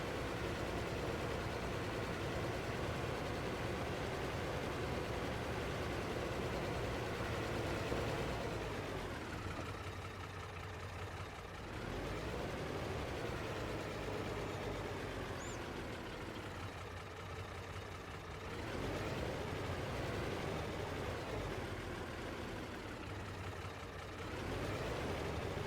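A tractor engine running steadily in the game Farming Simulator, a continuous low diesel drone that swells and dips in waves as the machine works and turns, with no voices.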